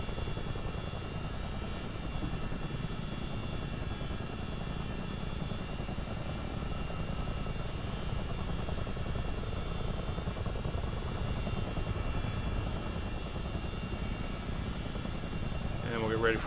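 A CH-47 Chinook helicopter in a flight simulator game drones with a steady, dense rotor and engine roar. The sound holds constant and fairly loud from start to finish, with only a faint tonal blip near the end.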